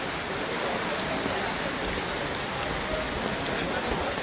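Heavy rain pours down steadily in Ansan, South Korea, as people queue and shelter for Eid al-Fitr prayer. The dense, even hiss of rain on surfaces is loud and unbroken throughout.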